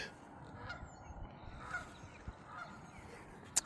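Distant geese honk intermittently over a soft outdoor background, faint calls scattered across the clip, ending with a brief sharp knock.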